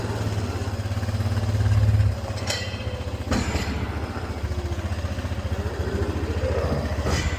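A farm tractor with a mowing setup idling steadily on a dairy farm, a constant low chugging rumble heard close and alone, with a couple of brief clanks.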